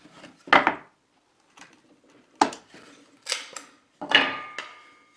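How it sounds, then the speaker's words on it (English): Sharp knife paring waste wood from a handmade wooden square, heard as several separate scraping and cracking cuts at irregular intervals, close and alone. "Now I'm just using a sharp knife to remove the waste."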